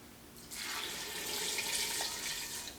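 Water mixed with bouillon is poured into a pressure cooker while making white turkey chili, giving a steady close splashing stream that starts abruptly after a short quiet moment and runs on evenly, fairly soft.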